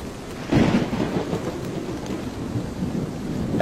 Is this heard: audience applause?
no